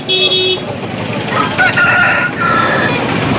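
A rooster crows loudly and close at a Sunday poultry market in Nellore, its call stretching across most of the clip over steady background noise, with no one talking.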